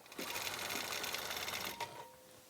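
A sewing machine quilting through a minky quilt, a rapid even whirr of stitching running steadily up close before slowing and stopping.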